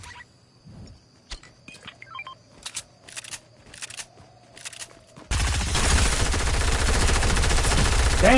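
Gunfire in Fortnite: scattered single shots at first, then a dense, loud, continuous burst of rapid fire that fills the last few seconds.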